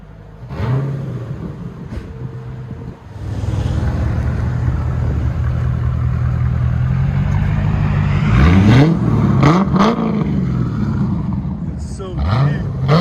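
A straight-piped 1991 Chevy Corvette with a 5.7L V8 idles with a deep rumble, then revs hard several times near the end, its loud roar rising and falling close by.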